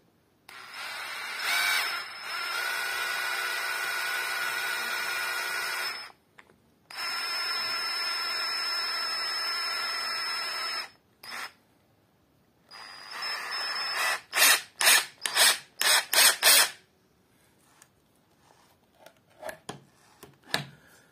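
A cordless hammer drill bores a hole, running in two long steady whirring spells, then a series of short sharp bursts and a few faint taps at the end.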